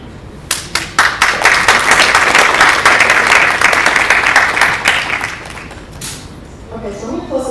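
Audience applause at an event, a burst of many hands clapping that builds quickly, holds for several seconds, then fades as a voice begins talking at the end.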